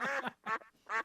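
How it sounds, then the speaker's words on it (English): A duck-like bird in a backyard lets out three short, raspy quacking calls in quick succession, fairly faint and a little distant. "It almost sounds like a duck."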